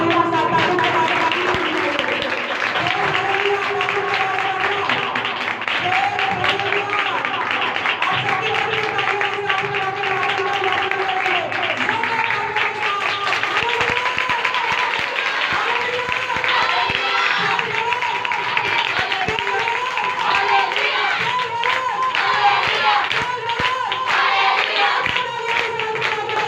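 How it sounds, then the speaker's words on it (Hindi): A church congregation at a Friday evening ministry meeting claps continuously to welcome a pastor, a long steady wash of hands mixed with murmuring voices, while music plays throughout. "मैं आप सबकी भरपूर तालियों के साथ उनको दावत देती हूँ"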